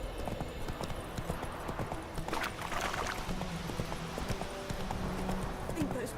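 Roach the horse trotting in The Witcher 3, with a steady clip-clop of hooves running through the whole stretch over outdoor ambience and a voice talking now and then.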